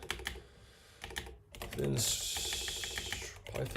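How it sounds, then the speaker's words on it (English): Fingers tap rapidly on a computer keyboard, giving close, clicky keystrokes in quick bursts with short pauses, while a person speaks over part of the typing. "I'm just gonna just type in what I want"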